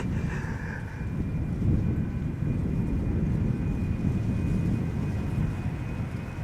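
A KLM Embraer 190 airliner departing Amsterdam Schiphol for Newcastle roars with a broad, low rumble that swells and holds steady, heard from fairly close amid wind noise.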